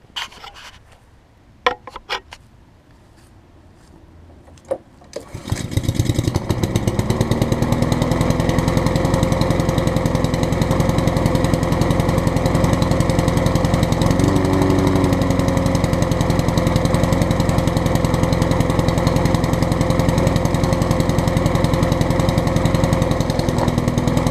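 A Black Max lawn mower, its blade mounted upside down, starts after a few clicks and pulls, then runs at a loud, steady, close-up drone that holds through to the end.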